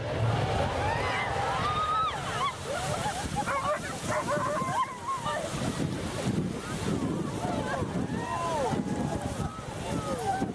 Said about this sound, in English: Watch as this launch unleashes chaos onto the water.